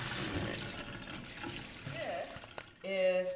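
Cold tap water runs over fruit in a colander in a home kitchen, a steady splashing rinse that grows louder and fuller near the end.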